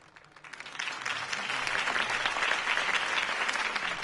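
A crowd applauds after a city election campaign speech, clapping that swells from scattered claps into dense, steady applause over a few seconds.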